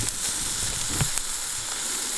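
Sausages sizzling as they cook over a campfire, a steady close crackling hiss with small pops and spits throughout, no talking.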